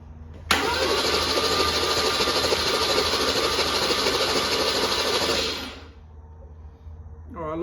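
A Holden 161 red motor engine starts abruptly and runs steadily at a fairly loud, even level for about five seconds, then cuts off and falls quiet with faint background noise.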